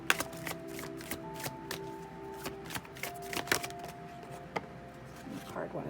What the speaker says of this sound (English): Shuffle here.